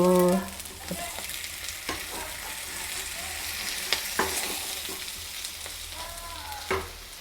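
Steady sizzling of chicken liver frying in a pan, with a few sharp clinks and scrapes of a spoon stirring, close and fairly loud throughout.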